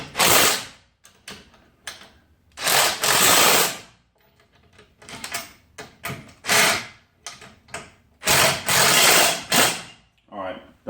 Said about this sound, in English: So I just use a little electric impact.